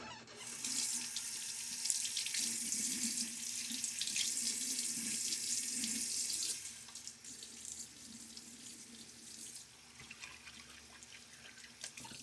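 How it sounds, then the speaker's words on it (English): Tap water runs in a steady trickle into a sink during a wet shave with a Gillette Nacet blade, loud and continuous at first, then quieter for the second half. "Let me get that trickle back going."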